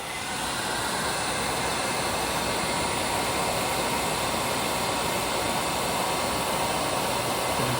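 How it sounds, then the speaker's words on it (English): A blower pushes hot air in a steady, loud, broadband whoosh during an overheat warning system demonstration, the continuous rush holding constant throughout with no talking. "now the hot air is blown with the help of blower"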